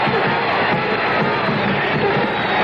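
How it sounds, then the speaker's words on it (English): New York Knickerbockers basketball fans cheer for Pete in the arena: a steady, distant crowd roar with no distinct peaks, filling the space evenly for a few seconds. "The fans cheering for Pete."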